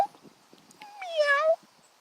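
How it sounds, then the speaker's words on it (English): A single drawn-out cat meow rising and falling, fairly close, over faint background noise and soft shuffling. "There's our kitty cat."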